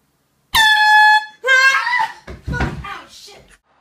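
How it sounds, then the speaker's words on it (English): An air horn blasts loudly for about a second as a wake-up prank, followed immediately by shouting, thumps and agitated voices. "I have this air horn"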